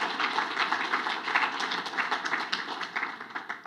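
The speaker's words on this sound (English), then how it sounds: "So please, a round of applause for Mrs. Kolar for doing the great work" An audience applauds Mrs. Kolar at a tourism conference, steady dense clapping that stays fairly even and close throughout, with no voices over it.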